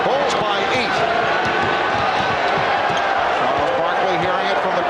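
A packed basketball arena crowd at a Suns vs Bulls NBA game roars in a steady, dense wash of noise, with sneaker squeaks and ball bounces scattered through it.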